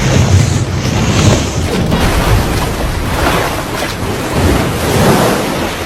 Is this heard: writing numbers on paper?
no